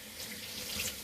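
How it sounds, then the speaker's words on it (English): Hands rinsed under a running kitchen tap while making sauerkraut: a steady, fairly close rush of water splashing into a sink, continuous and even throughout, with no talking. "Let me rinse my hands off real quick."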